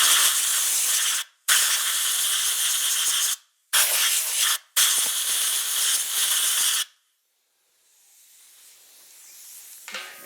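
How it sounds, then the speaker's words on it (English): Compressed air from an air hose blows in loud, hissy bursts into the EVAP system of a Ford Fusion, with three long blasts separated by short gaps, then a softer rising hiss at the end. "Grab your air hose. It's just long enough."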